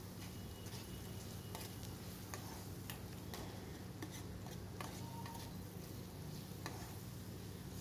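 Chili powder being stirred into potato kurma in a pan, with a steady low sizzle and scattered sharp ticks of the spoon scraping and tapping against the pan throughout.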